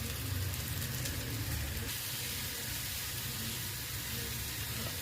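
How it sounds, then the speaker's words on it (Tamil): Nendran banana sautéing in a pan with grated coconut and cardamom, giving a steady, soft sizzling hiss that continues evenly throughout, with no voices. "இது கொஞ்சம் நல்லா ஒரு 2-3 நிமிஷம் வதங்கட்டும்"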